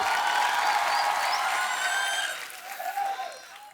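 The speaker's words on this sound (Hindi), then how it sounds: "आप सबकी जोरदार तालियों के बीच इनवाइट करना चाहूंगा" On The Kapil Sharma Show, a studio audience applauds loudly as guests Arjun Kapoor and Shraddha Kapoor arrive. The dense clapping and cheering fade out over a few seconds.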